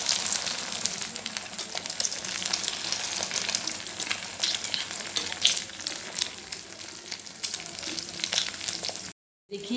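An egg fries in a pan for a keema burger, giving off a dense, continuous crackling sizzle close up that holds steady throughout before a brief gap near the end.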